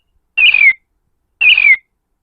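A bird sound effect plays in a Scratch program: two identical chirping calls, each about a third of a second long, clear and loud against silence.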